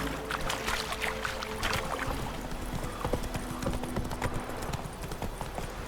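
Roach, Geralt's horse in The Witcher 3: Wild Hunt, walks on a game road, a steady clip-clop of hooves near and clear over a light ambient bed, with no talk.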